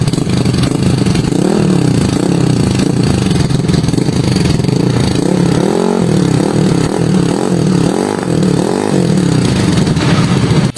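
A motorcycle fitted with a Villain GP2 carbon exhaust, silencer removed, revs loudly up close, its engine note rising and falling in repeated throttle blips over a rough idle, with no talking.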